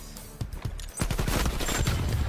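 Gunfire in Call of Duty Cold War multiplayer, a rapid automatic burst that kicks in after a short pause and rattles on loudly to the end, preceded by a few scattered shots.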